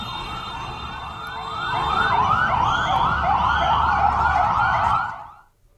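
An ambulance siren wails loudly and steadily in repeated rising-falling cycles on a Bengaluru street, swelling as it passes close, then cutting off abruptly near the end, with traffic rumble beneath and no talk.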